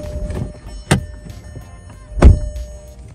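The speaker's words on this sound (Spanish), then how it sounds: "A ver, cierra bien tu puerta nada más porque no está bien cerrada." Two solid thuds of a car door slamming shut, the second louder and heavier, with faint rustling and small clicks in between.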